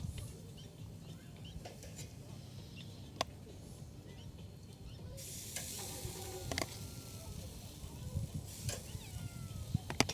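Cats meow now and then over a steady outdoor night background in Dubai with a low crackling, sizzling sound of a barbecue cooking nearby.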